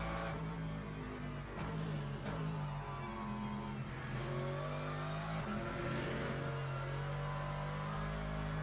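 A hypercar in a racing video game roars past under steady engine drone, its tone sliding and rising as it draws near, loud and continuous with no talk.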